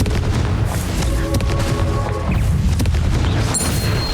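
A Confringo spell in Hogwarts Legacy sets off a deep, booming blast amid dense, rumbling battle noise that continues throughout.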